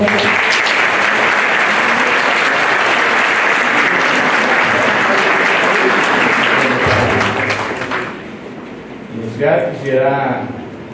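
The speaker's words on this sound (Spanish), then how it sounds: "Recibámoslo con un fuerte aplauso" A conference audience in a Spanish-speaking setting gives loud, dense applause welcoming a speaker; the clapping runs strongly for about eight seconds, then thins out as a voice begins speaking near the end.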